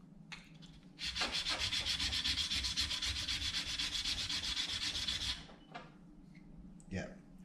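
Steel chisel back rubbed in a few steady strokes across a sharpening stone, a close, continuous gritty scraping and rasping sound during chisel restoration.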